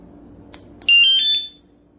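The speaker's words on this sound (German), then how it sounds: "It makes a beep." A Fosmon scooter alarm gives one loud, close electronic beep lasting about half a second after its remote alarm button is pressed, preceded by a faint click, with no talking.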